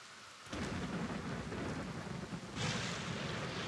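Heavy rain in the colony-building game Rimworld pours down as a dense, steady hiss with low rumbling thunder beneath it, loud and continuous, swelling brighter partway through, with no voices.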